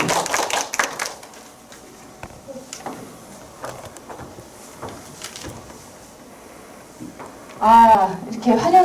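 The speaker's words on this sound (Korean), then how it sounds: "박수로 맞으겠습니다." An audience claps briefly to welcome a visiting professor to a civic-education lecture. A short burst of hand claps fades quickly into quiet room noise, with people speaking afterward.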